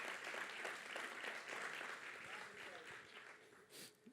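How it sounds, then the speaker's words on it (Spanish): A congregation at a church congress applauds, a broad wash of clapping with voices mixed in, fairly quiet and slowly tapering. "Alguien puede darle un fuerte aplauso a nuestro Dios."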